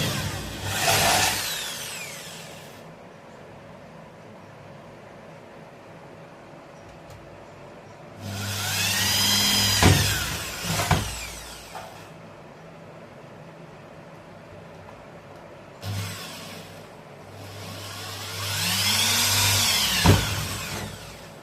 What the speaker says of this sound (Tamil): இப்போ ட்ரில் பண்ணுறது பாருங்கள்.